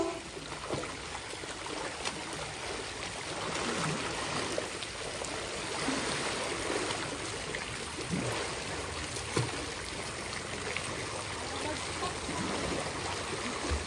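Water flows and spills over in a steady, quiet rushing trickle, a continuous splashing wash close by with a few small drips and knocks.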